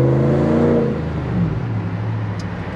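A Dodge Ram's 5.7 V8 Hemi pulls hard from inside the cab on a night drive, a deep rising engine drone with strong low harmonics that eases off into a steady road whir.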